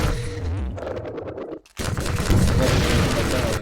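Rockets firing at a Strider in Half-Life 2, with loud, dense explosive blasts and rumbling combat that drop out briefly and then come back.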